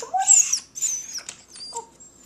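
A pet dog with a half black, half white, half brown face vocalizes up close in a series of high whining, yodeling moans and squeaks.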